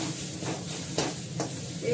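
Turmeric being stirred into food in a frying pan, a steady sizzle with a couple of brief scraping strokes of the spoon, close and moderately loud, no talking.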